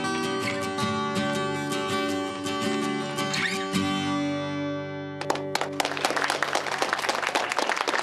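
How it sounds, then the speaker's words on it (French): Crowd applause for young performers Maggie and Riley bursts in after a sustained musical passage ends, a short spell of lively clapping. "On applaudit Maggie et Riley bien fort."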